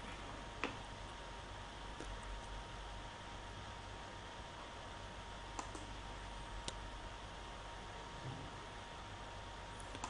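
Sparse, faint computer mouse clicks during SolidWorks CAD work, a few isolated sharp ticks spread over a quiet hiss with no talking.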